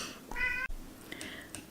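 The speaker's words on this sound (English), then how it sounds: "that is my kitty Merlina, and she wants to participate" A house cat gives two meows indoors: a clear, drawn-out one and then a shorter, softer one after a brief pause. The sounds are close and moderately loud over quiet room noise.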